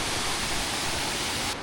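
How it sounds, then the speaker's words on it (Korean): A jungle waterfall roars as a dense, steady rush of falling water, loud and constant throughout, with no talking. "저게 폭포구나."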